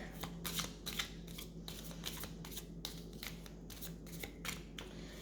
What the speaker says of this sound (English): we'll start by once again clearing the deck